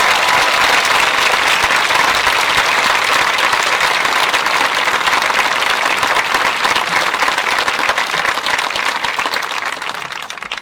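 Sustained, dense applause from a graduation audience at a commencement ceremony, a steady wall of clapping that holds loud throughout and tapers slightly at the very end.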